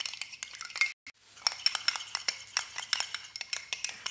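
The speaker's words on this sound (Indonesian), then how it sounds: "Aduk bahan sampai menjadi seperti ini." A spoon stirs a face mask mixture with toothpaste in a bowl, making quick, repeated clinks and scrapes in an uneven rhythm, close and fairly quiet, with a brief pause near the start.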